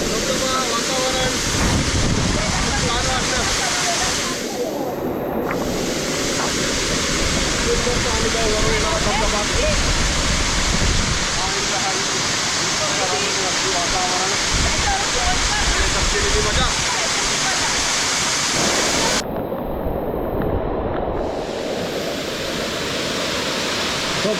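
Roaring waterfall in the Konkan countryside, a loud, constant wash of falling water that fills the whole scene, with a voice speaking faintly beneath it.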